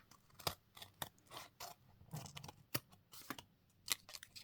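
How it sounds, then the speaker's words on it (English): Quiet, crisp snipping of scissors cutting sticky material, a string of short irregular cuts close by with faint rustling between them and no talking. "Let's use these scissors as this is so sticky."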